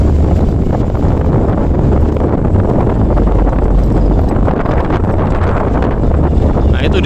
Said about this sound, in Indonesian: anginnya kenceng pol.